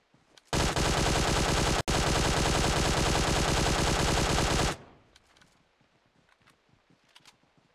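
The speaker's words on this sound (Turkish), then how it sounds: "az önce buradan baya bir silah çatışma sesi geliyordu" Heavy automatic gunfire from a gunfight in PUBG Mobile: one loud, fast sustained burst of about four seconds, broken by a split-second gap, then stopping abruptly into quiet rustling and faint distant pops.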